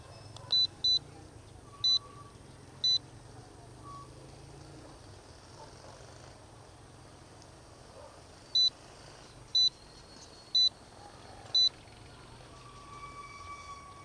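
A GPS drone emits short, high electronic beeps during its return-to-home flight, four in one burst and four more after a pause, over steady outdoor background noise.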